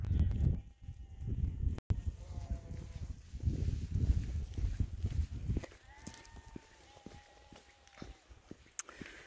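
Many lambs in a field bleating for their mothers: faint, scattered, wavering bleats at a distance over soft shuffling and trampling footsteps and light rustling, with occasional quiet voices.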